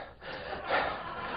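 A man imitates panting after a sprint, giving a quick gasp followed by a breathy exhale, close and alone.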